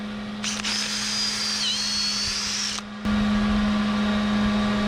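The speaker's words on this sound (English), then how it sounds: "Let's get drilling holes." A power drill whines steadily at a high pitch for a few seconds while drilling holes in wood during a wooden boat restoration, then cuts off and a louder steady motor hum continues.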